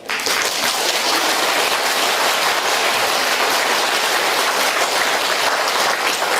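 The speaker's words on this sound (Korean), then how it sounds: "여러분들 박수 치니까 이상하네" An audience bursts into sustained applause during a priest's lecture on life and death at a village hall, dense clapping that starts abruptly and stays loud and even.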